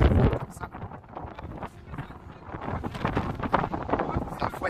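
Strong wind buffets a microphone on an Atlantic beach at Hourtin-Plage on the Côte d'Argent, a loud, continuous roaring rumble with gusts that swell and ease throughout.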